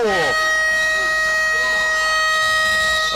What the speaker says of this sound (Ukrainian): фінальна сирена